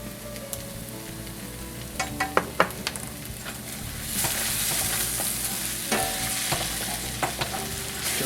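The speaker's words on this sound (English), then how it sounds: "stir that in briefly." A spoon scrapes and taps as oregano and paprika are stirred into a sizzling pan for Swiss steak, several sharp clacks over a soft frying hiss that swells louder partway through, close and without talk.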